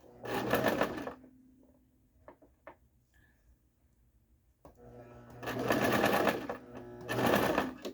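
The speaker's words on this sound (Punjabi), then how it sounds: "ਗੱਬੇ ਰੱਖ ਕੇ ਦੋਨਾਂ ਪਾਸਿਆਂ ਤੇ ਇਦਾਂ ਸੀਨ ਲਾ ਦੇਣੀ ਆਪਾਂ" A sewing machine runs stitching a seam in fabric, first in a loud steady burst, then pausing with a few faint clicks before running again in two more strong bursts, with no talk.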